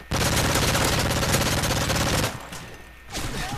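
Rapid automatic gunfire in the Call of Duty: Modern Warfare 3 free-for-all multiplayer game, a dense, loud burst for about two seconds that breaks off, then quieter scattered shots and game noise.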